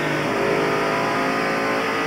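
A NASCAR stock car roars down the straightaway at about 8,300 rpm during the 1993 Food City 500, a loud, steady high-pitched engine drone holding from start to finish.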